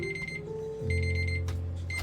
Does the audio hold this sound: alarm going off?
yes